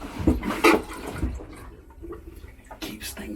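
Water is poured into a boat's toilet bowl, a couple of splashing bursts up front, then a quieter trickle and a final splash, fairly close.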